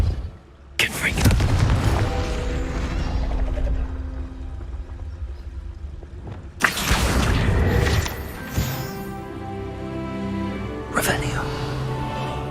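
Confringo blasting spell going off in Hogwarts Legacy: two or three sharp, loud bursts, each with a booming tail that hangs for a few seconds, the first two heavy and the last one shorter.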